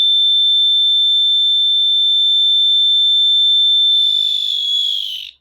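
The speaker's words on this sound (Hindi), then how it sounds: "इसी डायोड के ऊपर जैसे ही हीटिंग जाएगी तो ये बजर ऑफ हो जाएगा" A temperature-triggered electronic buzzer on a small diode-sensor circuit sounds a loud steady high-pitched tone alone for several seconds, then turns noisy and wavering and cuts off as heat is applied to the diode.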